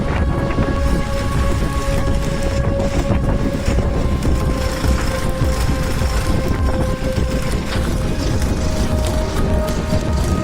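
Loud, continuous low engine rumble of a large deep-sea fishing vessel, with a steady mechanical hum and broadband noise, machinery running without pause.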